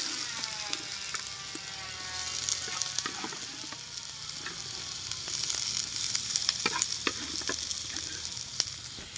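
Spotted dove pieces fry in a generous amount of oil for crispy adobo, a steady close crackling sizzle with scattered sharp pops and occasional stirring scrapes throughout, no voices.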